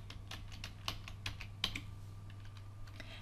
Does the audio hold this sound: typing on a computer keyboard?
yes